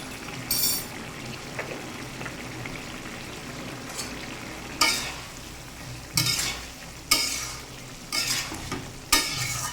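Vegetables sizzle and bubble in a pan, with repeated loud scraping strokes of a stirring spoon every second or so over the constant frying hiss. The vegetables are cucumber, potato and soybean.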